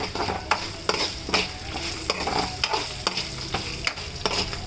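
Pre-roasted peanuts frying in oil for mango pulihora, a continuous close sizzle broken by regular scraping and clinking strokes of a spoon stirring the pan, about two per second.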